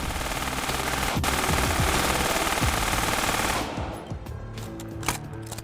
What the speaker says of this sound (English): The weapon I have here is a German MG Maschinengewehr 42.